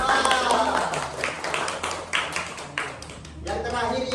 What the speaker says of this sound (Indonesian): Bagus, tepuk tangan buat Naifah.